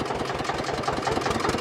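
A single-cylinder tractor engine drives a 7 ft double-shaft rotavator, giving a steady, loud chugging drone with an even low pulse throughout, with no voices.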